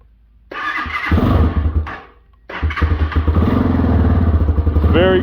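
A Chinese dual sport motorcycle on a very cold day, fired with the electric starter: a brief starter whir, a catch and stumble, a short pause, then a second crank catching into a steady, fairly quiet idle close by.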